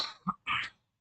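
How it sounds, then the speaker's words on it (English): A man coughs twice in quick succession, short and close, the second cough longer and harsher, with no other sound around it. "I'm feeling some cough."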